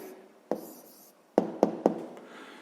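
A hand writing an answer to a sixth-grade maths problem, quiet pen or chalk strokes broken by a few sharp taps as marks are made, close and faint with no talking.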